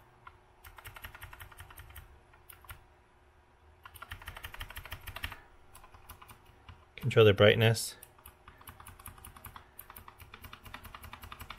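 Keys tapped on an Azio Retro Classic mechanical Bluetooth keyboard, a few scattered clicky presses in short clusters, fairly close, with a louder burst midway and a person talking over it.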